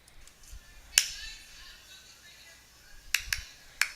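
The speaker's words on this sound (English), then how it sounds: "So that was the clap, so I know I have the right file." A sharp clap made to sync footage with separately recorded sound, heard once loudly and then as a quick cluster of three crisp slaps, over a quiet room with no talking.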